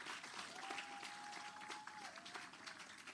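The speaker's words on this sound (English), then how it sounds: "Please give them a bigger round of applause." An awards ceremony audience breaks into a steady wash of applause that holds for several seconds, mid-distance in a large room, with a faint tone running underneath.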